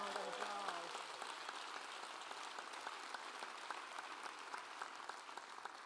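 Applause from an audience at a superintendent's State of the Schools address rises and continues steadily, a dense wash of clapping at moderate volume, with a brief voice at the very start.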